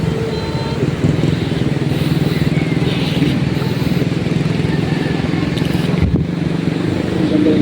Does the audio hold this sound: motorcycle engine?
yes